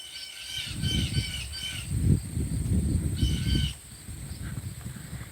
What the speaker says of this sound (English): I don't know what kind of bird that is, but they sound amazing.